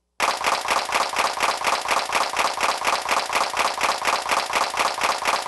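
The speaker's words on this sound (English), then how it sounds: "an auto-triggering mechanism if you want to make this just clap ceaselessly" A Simmons Clap Trap drum machine on auto-trigger fires electronic hand claps in a fast, perfectly even stream that starts abruptly and continues unbroken at a steady level.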